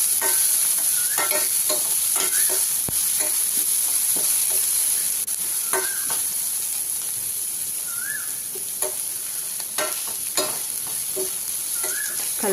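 A cup of onion pieces fries in a pan until reddish, giving a steady, hissing sizzle broken by repeated scraping stirs of a spoon, close and clear with no talking.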